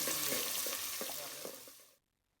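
Spring onions and broad bean pieces are stirred through a pan of frying curry, giving a steady sizzle with a few soft scraping strokes before it cuts off abruptly near the end.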